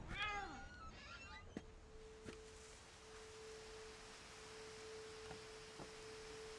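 Near, clear cat meows from What Remains of Edith Finch come in a quick rising-and-falling cluster at the start, then give way to quiet game ambience with a sustained tone and a few soft clicks.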